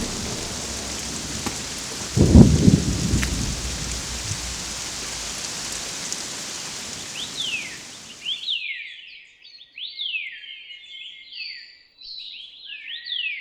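Steady spring rain hisses with a loud rumble of thunder early on, then the rain stops abruptly and chirping birds take over, fairly close, in Taiwan's mountains.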